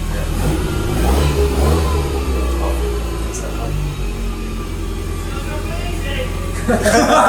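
Ferrari Dino 308 GT4 engine running and revving, a steady loud low rumble throughout with a sharper rev rising near the end, while people talk over it.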